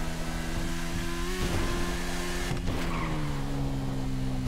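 A motorcycle in GTA 5 holds a loud, close, droning engine note that rises in pitch as it accelerates, with a brief tire screech partway through and no voices.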